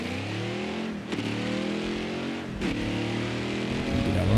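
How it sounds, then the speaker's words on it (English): Race car engine in the NASCAR Heat 4 video game, revving steadily at a loud, sustained pitch with two brief dips as the throttle blips, then holding high near the end. "You see how the car moves whenever you're revving it?"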